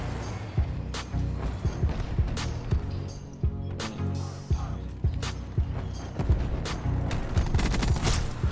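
Rapid gunfire from Call of Duty: Black Ops 4, with dense bursts and repeated sharp shots layered over busy game sound for the whole stretch.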